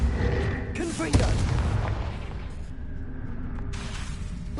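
Confringo spell explosion in the Hogwarts Legacy video game: a sudden blast with a whooshing rush and a booming burst, followed by rumbling debris and a second fiery surge near the end, moderately loud.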